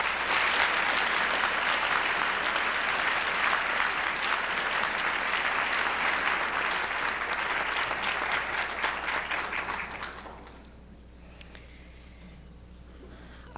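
An audience at a formal luncheon meeting applauds a committee, dense sustained clapping from many people holding steady for about ten seconds before fading abruptly into quiet room tone.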